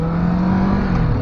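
A Kawasaki Vulcan S 650 motorcycle engine hums at a steady, fairly loud idle-to-low rev, a continuous droning tone with no speech.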